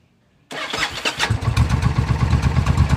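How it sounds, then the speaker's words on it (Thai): A Suzuki Intruder 1400 bobber motorcycle fires up after brief silence: a quick starter crank catches into a loud, close, lumpy idle that keeps throbbing steadily, with no talking. "สตาร์ทกดเบาๆนะครับ"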